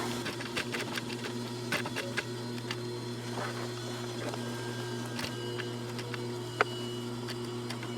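A sewing machine stitches a zipper fly into jeans with a steady, even mechanical hum and light ticking, running continuously at close range.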